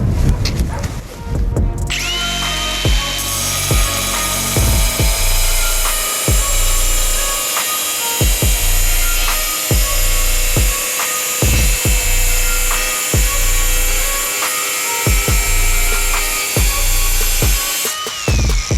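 A Milwaukee M18 FSAGV125XPDB cordless 125 mm angle grinder spins up to a loud, steady high-pitched whine and holds full speed, with repeated sharp knocks and clatter over the drone, then winds down near the end.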